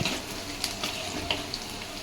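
Chopped onion frying in a pan for a spicy shepu (dill) vegetable dish: a soft, steady sizzle with a few faint clicks of stirring, fairly quiet, with no talk.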